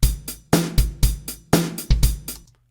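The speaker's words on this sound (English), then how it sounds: "let's put in the snare now on beat 2 and 4" A drum pattern with a punchy snare hitting on alternating beats over a steady kick, about two bars, clear and up close.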